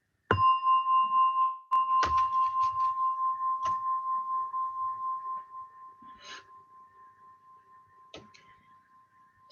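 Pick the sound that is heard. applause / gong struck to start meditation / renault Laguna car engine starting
gong struck to start meditation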